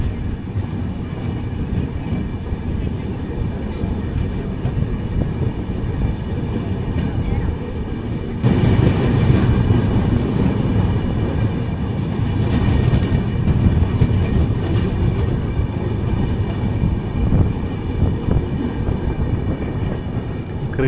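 The Chennai–Bodinayakanur AC Superfast train rolls on after departing Theni station, a steady close rumble of wheels on rail with faint rhythmic clatter that swells slightly midway, heard continuously with no talk.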